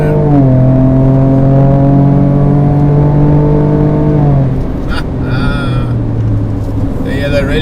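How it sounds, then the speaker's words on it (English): A Ford Ranger Raptor's V8 engine revs under hard acceleration, a loud, close, rising growl holding for several seconds before dropping. A brief higher whine and chirps follow, and a voice talks over it. "there is just something special about a V8 sound. And then when you want to, you can just stick the boot in"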